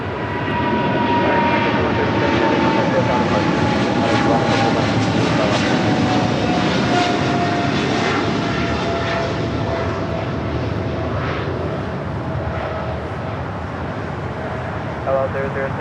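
A heavy airliner taking off from runway 25 right at LAX, a loud, sustained engine roar with whining tones that slowly drop in pitch and then fade a little near the end.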